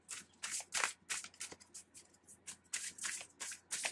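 Tarot cards being shuffled close up in a quiet room, a steady series of soft riffling and slapping bursts roughly every quarter second, faint and alone without talk.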